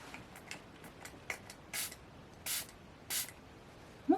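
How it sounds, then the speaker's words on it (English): Several short bursts of Catrice Blend and Bond setting spray misting from a pump bottle, with three longer, louder sprays after a run of faint quick spritzes, close and without talk. "This is the Blend and Bond setting spray."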